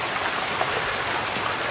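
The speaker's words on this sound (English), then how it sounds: "We have hail." Hail pelting down on a parked car during a stormy day north of San Diego, a dense, steady hiss of icy pellets striking the windshield and roof, continuous and close with no voices.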